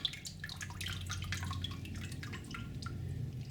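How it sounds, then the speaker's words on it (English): Whey drains from fresh homemade mozzarella curds through a strainer into a pot, a steady, fairly quiet patter of dripping and trickling liquid with no talking. "I'm just pouring that to catch any excess, and then I'm just going to let it strain into the pot."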